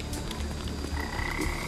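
Frogs croak in the LEGO Jurassic World video game, a dense chorus of rapid raspy croaks over ambient game background, fairly loud and continuous.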